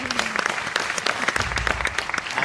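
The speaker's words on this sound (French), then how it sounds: "On peut l'applaudir?" Brief audience applause at a French leadership talk, dense clapping from a crowd at moderate loudness, lasting a couple of seconds.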